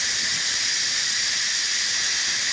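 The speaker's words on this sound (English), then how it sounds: "So we're gonna vent this now and it's really loud" An 8-quart Instant Pot pressure cooker vents steam in a loud, steady hiss that fills the whole stretch without a break, close by and with no voices over it.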